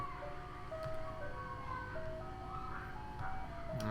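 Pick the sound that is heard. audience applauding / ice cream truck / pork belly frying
ice cream truck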